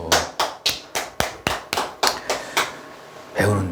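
A small group claps in unison at an indoor sales coaching session, about ten sharp, evenly spaced claps in a quick rhythm, then a short burst of movement at the end.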